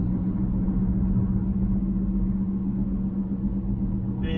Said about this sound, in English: Big rotational noise.